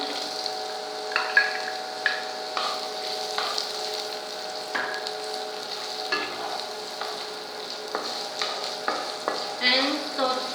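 Chopped onion and green chili sautéing in a pan for poha, a steady close sizzle broken by irregular scraping stirs, with no voices.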